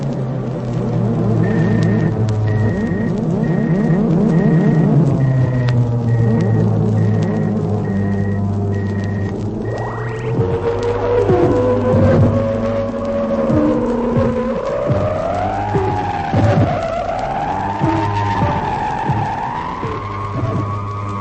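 Old-time radio sci-fi effect of a spaceship dropping below light speed: loud, continuous electronic droning with sweeping, warbling pitch glides and rumbling tones that bend downward and wobble for about twenty seconds, with no talking.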